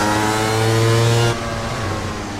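A racing kart engine drones loudly in a VR racing game, a steady buzzing note that holds high then drops abruptly to a lower pitch as the throttle eases, with no talking.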